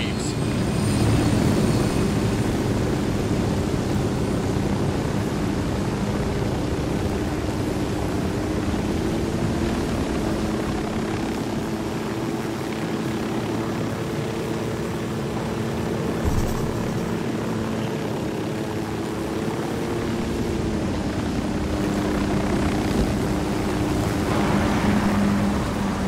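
Helicopter flying in the video game Ghost Recon Wildlands, its continuous rotor thrum and engine drone steady and fairly loud for the whole stretch, with a faint whine layered on top.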